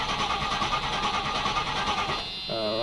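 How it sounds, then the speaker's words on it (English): A V12 Jaguar E-Type or Rolls-Royce Corniche engine cranks steadily without catching for over two seconds. The starter sound is near and fairly loud, then it cuts off into a brief pause before a voice speaks. "I'm gonna give it one last try, see if it starts."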